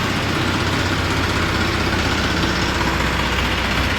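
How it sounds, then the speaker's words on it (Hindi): A tractor engine idles steadily while parked, a loud continuous low rumble with no changes in pace and no talking over it. "तो अब यहाँ खड़ा करेंगे जी ट्रैक्टर को।"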